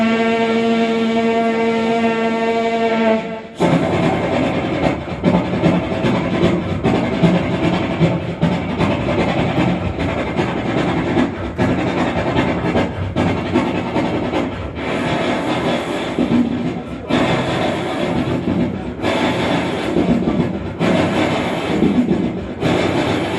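A voice imitates a train crossing an iron bridge over a river, a loud, continuous rumbling clatter with rhythmic pulses that opens with a tonal whistle-like hum and carries on steadily for the whole stretch.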